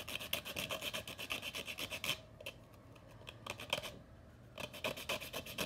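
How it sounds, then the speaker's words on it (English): Sandpaper rubs rhythmically over the edges of a wood board for a levelling table, close and fairly quiet rasping strokes in quick succession, pausing briefly in the middle before resuming. "you can sand off the edges of the wood so that it doesn't cut your hands"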